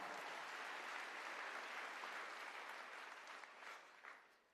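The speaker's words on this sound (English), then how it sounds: "yeah, you can clap" Sustained audience applause at a political festival interview event, broad and continuous, tapering off toward the end with a faint voice emerging.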